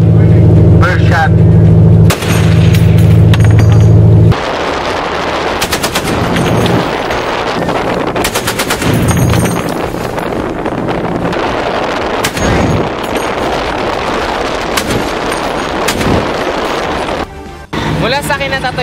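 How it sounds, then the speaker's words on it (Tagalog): Gunfire from a Project Buhawi weapon test near the ship PCT-76, with repeated loud shots and bursts at varying intervals over steady engine rumble, some heard from a distance. "the firing sequence at different intervals and varying distances began"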